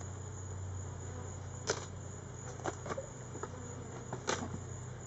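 Honey bees buzz around a beehive from which feeders are being removed, a steady low hum with a few louder passes of bees close by.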